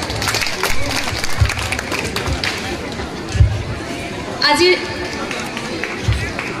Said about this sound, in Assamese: এটা ডাঙৰকৈ হাত চাপৰি হ'ব লাগে।